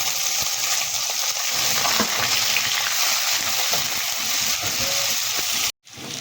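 Chopped onions sizzle loudly in hot oil alongside cinnamon, cardamom and cloves while being stirred in a pan, a continuous close crackling fry with a brief break near the end.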